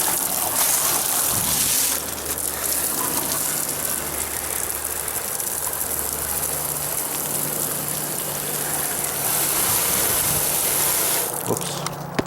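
Water sprays onto an old 19-inch Sanyo CRT television during cleaning, a steady close hiss like heavy rain on a hard surface, with low mechanical hums stopping and starting underneath and a faint clatter near the end.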